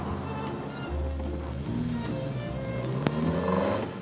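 Engine of a 1963 Matra Djet sports car hums and revs while driving, a steady mid-pitched drone rising and shifting in tone, heard from inside the car.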